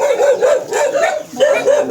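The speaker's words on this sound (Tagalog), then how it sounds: "Ang dami mga aso dito mga kaibigan." Dogs on a farm in Isabela Province bark and yip repeatedly at close range, a loud rapid string of overlapping barks.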